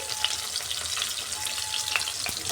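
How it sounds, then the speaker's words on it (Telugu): Finely sliced green chili and a large onion frying in hot oil, a dense, even sizzle close up that stays loud and steady throughout, with a few faint clicks and no voices. "ఒక పచ్చిమిర్చి సన్నగా కట్ చేసుకొని ఒక ఎర్రగడ్డ పెద్ద సైజు సన్నగా కట్ చేసి ఫ్రై చేసుకుందామండి"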